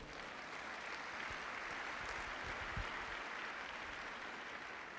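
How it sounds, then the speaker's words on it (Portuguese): A church congregation applauds together, a steady dense wash of clapping that fills the whole clip at even loudness, with no voice over it. "Dá um aplauso ao Senhor."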